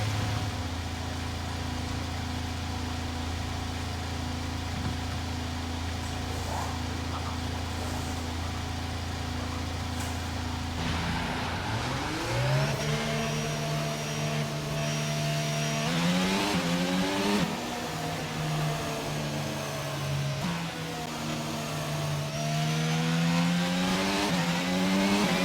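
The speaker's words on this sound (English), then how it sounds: "Okay, engines fired up" F1 race car engines from the F1 22 game idle steadily, then rev up and accelerate with rising, sweeping pitch that climbs and falls repeatedly, loud and continuous with no talking.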